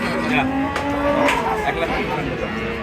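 Cattle low and moo amid the dense, noisy bustle of a livestock market where dairy cows and calves are sold, with people talking nearby.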